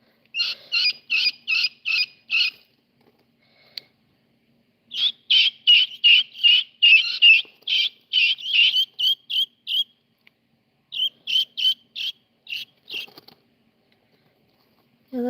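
Baby chicks squeak in short, high, rapid bursts of repeated peeps, close and loud, with brief pauses between runs.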